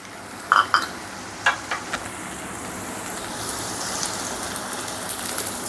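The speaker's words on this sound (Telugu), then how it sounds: "ఇప్పుడు ఈ ఉల్లిపాయ ముక్కల్ని లేత బంగారు వర్ణం వచ్చేంత వరకు ఫ్రై చేసుకుందాం" Chopped onions, ginger and curry leaves frying in hot oil in a pan, a few sharp crackles and spits early on, then a steady soft sizzle with occasional pops.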